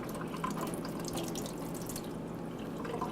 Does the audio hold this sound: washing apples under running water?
yes